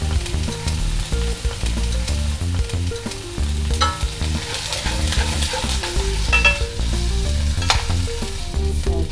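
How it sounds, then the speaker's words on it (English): Pork tenderloin sears in hot oil in a pan over high heat, producing a continuous loud sizzle with occasional sharper crackles, set against steady tonal, music-like sounds. "you're going to take your pork tenderloin and put it into the pan, and you're going to let it sear or brown on all 4 sides here"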